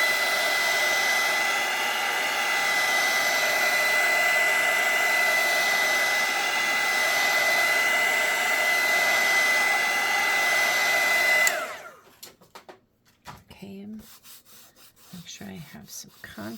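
A hair dryer blows steadily and close at a constant whine while drying a dark circus-themed craft project, then cuts off abruptly near the end, followed by quiet handling noises and brief speech.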